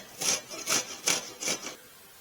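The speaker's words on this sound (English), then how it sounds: "we're going to start by grating our onion" An onion is grated by hand for a Korean barbecue marinade, giving four brisk rasping strokes in an even rhythm, close and clear, with no talking.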